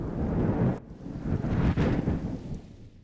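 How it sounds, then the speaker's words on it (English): Recorded thunder rolling as a loud, continuous low rumble, with a brief dip partway through before swelling again, heard alone with no voices. "Just some thunder that was recorded."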